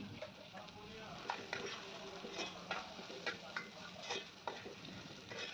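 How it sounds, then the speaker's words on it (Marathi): French beans sizzle as they are stirred with salt in a frying pan for a home-style sabji, producing a steady crackling fry with repeated soft scraping strokes at close range and no talk. "आता यामध्ये चवीपुरतं मीठ घालून घ्यायचं आणि व्यवस्थित मिक्स करायचं आहे"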